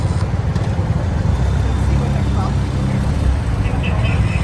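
A motorcycle engine hums low and steady at slow speed during clutch and throttle control, loud and close throughout, with a person talking over it.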